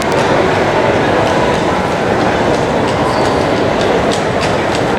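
Local train at Napoli Centrale station in Naples, a loud, steady rumble of rolling rail cars with rhythmic wheel clatter close by.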